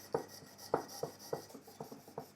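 A Mora Bushcraft Black knife blade is pushed across a whetstone in short, quiet, rhythmic scraping strokes, about eight rasping passes in just over two seconds, close up with no talking.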